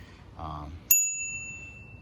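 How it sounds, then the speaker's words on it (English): A single bright ding from the small handlebar bell of an Ancheer 16-inch folding electric commuter bike, close and clear, ringing out and fading over about a second after a brief murmur of voice. "The little bell right there."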